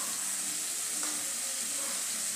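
Margarine sizzling in a frying pan with wilted onion, a steady, even hiss of frying fat, close and soft, with a faint scrape partway through.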